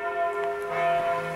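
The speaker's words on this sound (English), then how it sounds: "You hear the bell?" A bell rings indoors in a clean, quiet room, its steady sustained tones with bright overtones holding across the short moment at moderate volume, with no talk over it.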